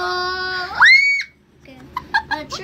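Children shriek in a ringtone reenactment, with a long, high, rising scream followed by a pause. Shorter, choppier childish cries and squeals follow, close and loud.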